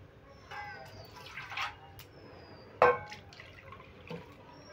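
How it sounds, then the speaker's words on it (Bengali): Water trickles and splashes into a pan of red lentils being readied for boiling, a faint pouring with a few soft drips and one brighter splash near the end, close by in a quiet kitchen. "দেখো, পরিমাণ মতন এমনভাবে জল দেবো যেন ডালটাও সেদ্ধ হয়ে যায়, আবার খুব গলেও না যায়।"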